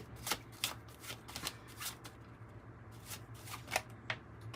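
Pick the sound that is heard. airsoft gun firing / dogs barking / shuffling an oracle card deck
shuffling an oracle card deck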